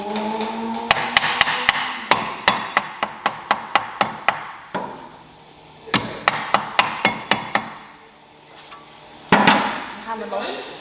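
Sharp metallic hammer blows on a Mini Cooper R53 suspension part ring out in rapid, regular runs, pausing briefly between bursts, close and loud.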